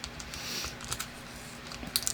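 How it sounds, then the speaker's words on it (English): Tape being pulled and pressed onto a paper sewing pattern, a close rasp of tape unrolling followed by light taps and crinkling of paper, with no talking. "I'm going to tape that."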